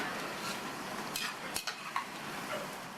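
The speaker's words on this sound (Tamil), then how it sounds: "நல்லா பரட்டி விட்டு புடலங்காய் நல்லா ஃப்ரை ஆயிடுச்சு. எண்ணெயோட சலசலப்பு சத்தமும் ஓரளவு அடங்கிடுச்சு." Snake gourd frying in oil, a constant close sizzle with a few soft clinks and scrapes of a utensil turning the pieces.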